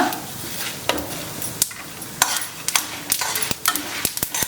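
Sesame seeds roast in a pan with a soft sizzle, clicking as a spoon stirs and knocks against the metal, with sharper clacks growing more frequent toward the end.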